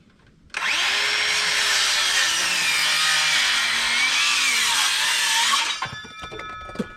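A power saw screams loudly for about five seconds as it trims the end of a piece of framing lumber, the whine bending in pitch under load before spinning down, with no talking.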